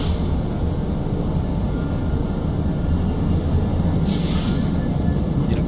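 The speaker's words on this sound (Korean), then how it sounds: "이 기차는 이제 여기서 혼자서 계속 왔다 갔다 할 거예요." A single-track train in the Satisfactory factory-building game runs steadily, a continuous low rumbling rail drone with a brief brighter hiss near the end, heard alone with no talk.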